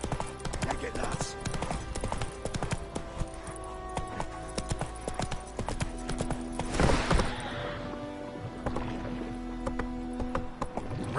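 Hooves of Roach, Geralt's horse in The Witcher 3 on PS5, clip-clopping at a steady run, with rattling tack and game ambience around them and a louder swell near the middle.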